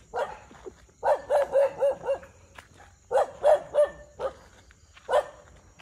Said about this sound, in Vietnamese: Chưa thấy ma mà thấy chó rồi.